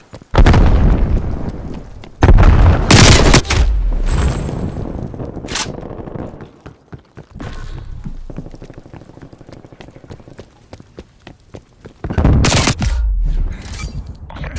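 Frag grenade blasts and gunfire in the multiplayer shooter Call of Duty: Black Ops Cold War, with heavy booming explosions at the start and again near the end and rattling bursts of shots in between.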